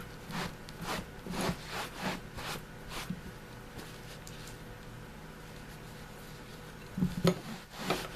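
A microfiber cloth rubs over polymer pistol parts during a field-strip cleaning, giving soft repeated wiping and rasping strokes, fairly close and quiet, with a lull in the middle before a final few strokes.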